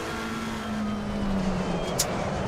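A race car engine droning steadily at Kyalami in the ACC racing game, a loud continuous hum with a whining tone that shifts slightly in pitch as the car carries speed through the turns, with no talking.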